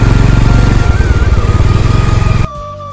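A motorcycle rides along a muddy, slippery rural road on the way from Dhaka toward Mawa, its engine droning loud and steady with a pulsing rumble, then dropping off sharply near the end.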